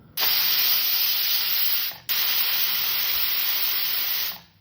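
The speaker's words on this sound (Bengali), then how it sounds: "গ্যাসে প্রেশার কুকার হাওয়াটা ছেড়ে দিয়ে" A pressure cooker holding masoor lentils on a gas stove lets out steam in two loud, continuous hissing bursts of about two seconds each, separated by a brief pause, close up and alone.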